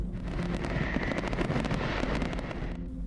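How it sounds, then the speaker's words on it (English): Distant New Year's midnight fireworks pop and crackle in a dense, quiet flurry of rapid bursts, with no voices. "Several fireworks erupted in the distance."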